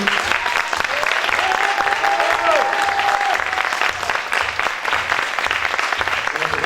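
An audience at the Miss Aisne 2020 pageant, held at the MCL, applauds steadily and loudly for the whole stretch, a dense wash of clapping with a faint voice or tone running underneath partway through.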